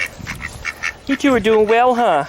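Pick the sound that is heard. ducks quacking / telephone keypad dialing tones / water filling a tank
ducks quacking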